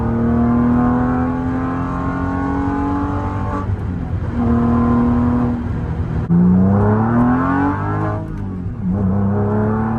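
Porsche 911 996 C4S flat-six engine revving loudly and steadily, close by, with pitch rising and falling through several throttle swells and a sharp climb near the end, no talk.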